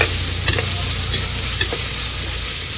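Sliced onions and green chillies sizzle loudly in a frying pan, with a few sharp scrapes and clicks as a spoon stirs them. The frying hiss stays close and steady throughout.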